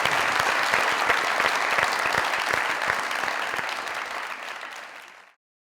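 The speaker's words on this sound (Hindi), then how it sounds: "स्टैंडिंग ओवेशन, खड़े होकर जोरदार तालियां" Loud, dense audience applause from a standing ovation at a comedy talk show taping, with sustained clapping throughout that gradually thins toward the end before stopping abruptly.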